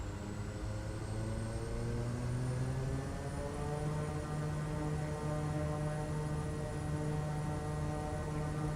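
Kodiak 100 single-engine turboprop in Microsoft Flight Simulator 2020 running up to takeoff power, a steady loud propeller drone and engine hum that climbs in pitch and holds, continuous with no talking.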